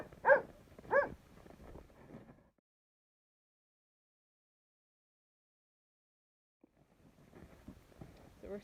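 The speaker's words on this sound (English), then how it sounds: "That barking dog again" A distant dog barks twice in quick succession outdoors, followed by fainter rustling, then a long stretch of silence before low background noise returns.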